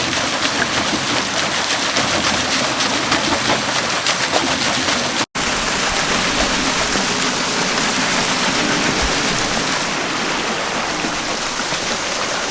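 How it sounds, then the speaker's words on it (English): Loud, steady rush of water flowing through a flume, continuous and close, with a brief dropout partway through. "So you can see a lot of water flowing over here."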